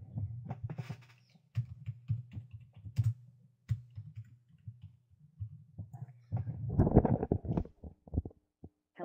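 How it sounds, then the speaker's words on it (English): Someone types on a computer keyboard with irregular, close, uneven key clicks and taps, spread over a soft low rumble and ending in a denser flurry of strokes. "just type whatever you want"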